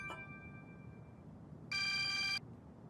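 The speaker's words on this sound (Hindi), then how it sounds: "ईबो तुम्हें फोन कर रहा है" A phone signals an incoming call with a short electronic tone, then a brief, bright burst of ringtone lasting under a second over a low background hum.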